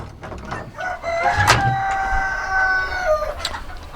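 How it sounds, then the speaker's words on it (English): A blue or black rooster crows in a backyard chicken pen, one loud, close cock-a-doodle-doo with a sharp onset and drawn-out tail, with softer clucks and hen noises around it. "I got a couple blues roosters and a couple black roosters in here"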